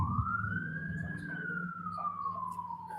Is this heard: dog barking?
no